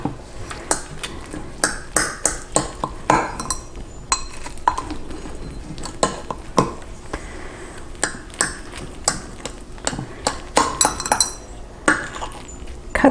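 A sharp knife cuts a ham and broccoli frittata into quarters, with scattered clinks and taps of the blade on the pan or plate, close and irregular throughout.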